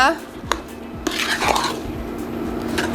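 Pineapple jam being stirred in a pot over medium heat: a utensil scrapes and clinks against the pot in a steady, close run of irregular strokes, with faint voices in the background.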